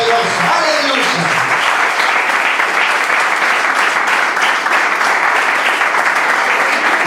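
A church congregation applauds loudly and continuously for the Lord during a sermon. Dense, close clapping fills the space, and a short voice or tone can be heard at the very start beneath it.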